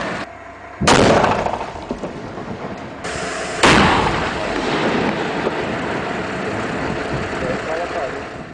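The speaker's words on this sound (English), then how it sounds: "Blocks of granite are blasted apart from the rock at the quarry" Quarry blasts breaking granite blocks from the rock face, with two sharp loud booms a few seconds apart, each followed by a long rumbling roar of falling stone.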